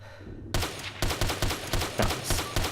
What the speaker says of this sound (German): Ich habe geschossen.